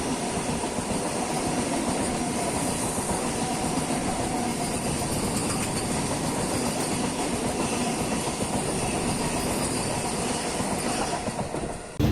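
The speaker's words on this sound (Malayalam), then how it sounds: "നമ്മുടെ ട്രെയിൻ ഇപ്പോൾ കുഴപ്പമില്ലാത്ത സ്പീഡിൽ പോകുന്നുണ്ട്." A passenger train on an Indian rail route in Kerala rolls steadily along the rails, a continuous loud rumble with rattling wheels and faint squeals throughout, no voices.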